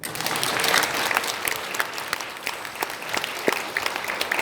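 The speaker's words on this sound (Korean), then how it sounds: "박수!" A church congregation at a Korean pastor's installation and retirement ceremony bursts into applause, loud sustained clapping from a crowd with sharp individual claps standing out throughout.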